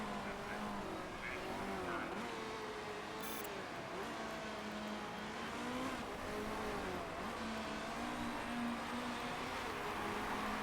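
A race car engine drones and rises through gear changes in an endurance racing video game at the Yokohama circuit, a steady mid-level mechanical tone with shifting pitch sweeps and a faint tire squeal.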